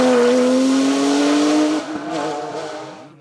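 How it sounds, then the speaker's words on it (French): A Porsche 996 GT2R race car in a hill climb roars past at high revs, its loud engine note sliding down in pitch and then fading away into the distance. "Au volant de sa Porsche 996 GT2R, Frédéric Neff signe un nouveau résultat probant"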